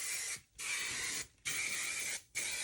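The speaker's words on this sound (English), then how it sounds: "My favorite hairspray." Aerosol hairspray sprayed onto hair in three close hissing bursts, each lasting under a second with brief gaps between, steady and bright, no talking.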